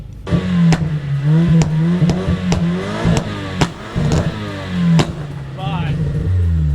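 A Volkswagen Passat CC 2.0 engine revs repeatedly while the exhaust fires off a string of sharp, loud bangs and pops between the revs.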